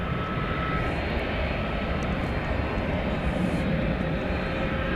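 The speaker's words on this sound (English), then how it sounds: "Okay, this is flight 767 being operated by an A300" A UPS Airbus A300 taxis at night at DFW Airport, its jet engines a loud, steady low rumble and roar holding evenly throughout with no voices.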